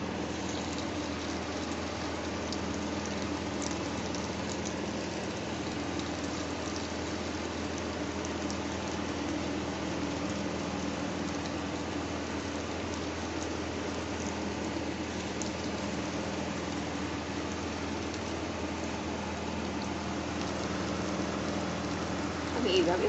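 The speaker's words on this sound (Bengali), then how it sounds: "আমি এইভাবে ভেজে এরকম করে ভেজে ভেজে আসছি, সবগুলো ভেজে আসছি।" Cheese bread fries in oil in a pan over a gas flame, giving off a steady, even sizzle and crackle that holds without a break, with no voices heard.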